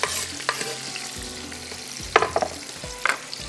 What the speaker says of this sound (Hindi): ये देखिए, थोड़ा सा इसको हम इस तरह से भूनेंगे।